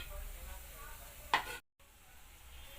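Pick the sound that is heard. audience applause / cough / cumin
cumin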